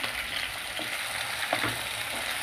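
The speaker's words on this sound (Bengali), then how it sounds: "এবার আমি এর মধ্যে দিয়ে দিচ্ছি টমেটোর টুকরো" Small tomato pieces and salt frying with onions in a pan, a dense continuous sizzle with faint stirring, close and even, no voices.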